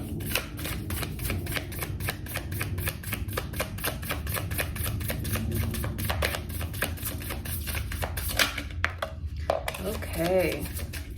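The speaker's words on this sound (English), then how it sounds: "I'll do one more shuffle." Tarot cards are shuffled in a rapid, steady run of crisp riffling clicks close to the microphone, ending with a few softer handling rustles.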